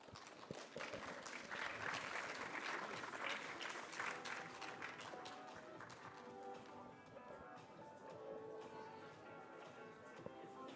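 An audience at a city innovation event applauds a newspaper team called up front: a long, even wash of clapping that stays full and steady, slightly tapering toward the end, heard from within the hall.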